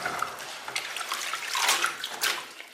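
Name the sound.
washing chives in water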